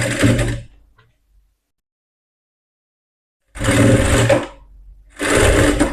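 Sewing machine stitching a blouse runs in two bursts of loud, close mechanical whirring, separated by a few seconds of silence, with no talking.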